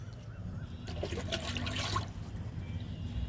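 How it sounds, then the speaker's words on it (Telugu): Water poured onto a guava plant in a home garden, a soft splashing trickle that swells for about a second in the middle, close by, over a low background hum. "జామ మొక్కకి వాటర్ ఇస్తున్నాను."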